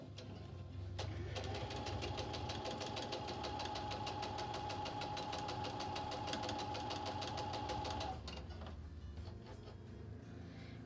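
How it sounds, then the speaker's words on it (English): A sewing machine stitching quilt pieces together at a quarter-inch seam, a fast steady mechanical whir and rapid needle chatter running for several seconds before stopping, close by with no talking. "we're going to sew using a 1/4 inch seam allowance"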